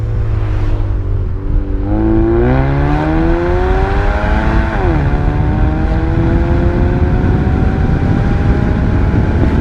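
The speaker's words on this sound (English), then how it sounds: "so let's do this first gear pull real quick" A 400 whp EcoBoost Mustang launches hard in first gear, its loud engine note climbing steadily in pitch through the rev range with a brief dip mid-pull, continuous and close throughout.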